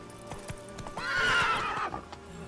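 Roach, the horse in the Witcher 3 video game, gives a loud, rising whinny in the middle, with a steady clip-clop of trotting hooves running throughout and no talk.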